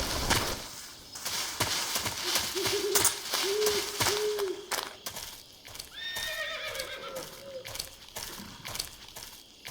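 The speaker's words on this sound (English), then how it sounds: "Is that a horse?" A horse whinnies in Metal Gear Solid 3: Snake Eater, a rising then falling neigh, among steady clip-clop hoofbeats and faint ambient rustling.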